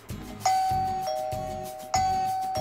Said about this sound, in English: It has a nice doorbell chime.